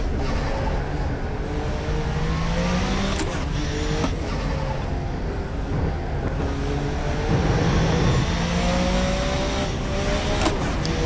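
A Group C race car in rFactor 2 screams past at high speed at Spa, engine note rising and falling through gear changes, loud and continuous with no voices.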